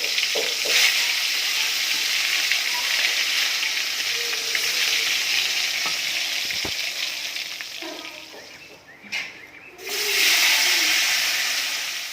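Eggplant slices fry in a hot pan at home, giving a steady, fairly loud sizzling hiss with a few soft clinks. Near the end the sizzle briefly drops away, then returns at full strength.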